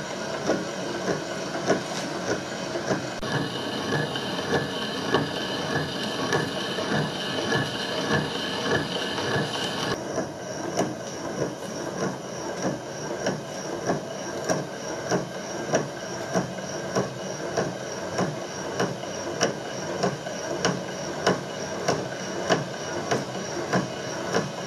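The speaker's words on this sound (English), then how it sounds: "It's a little bit of an interrupted cut because obviously it's got the split in there for the clamping." Steady rhythmic knocking of an interrupted machining cut through a split motorbike fork yoke, each pass of the tool striking the clamping gap in an even, close, continuous pattern with no talking.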